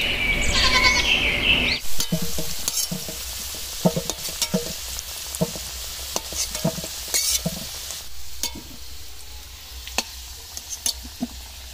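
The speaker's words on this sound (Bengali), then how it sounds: "সব আলুর গায়ে যেন ভালোভাবে লেগে যায় সেরকম ভাবে নেড়ে ছেড়ে নিতে হবে" Potatoes tossed with salt and turmeric in a pan, opening with a loud sizzle, then a spatula scraping and clinking against the pan in irregular close-up strokes.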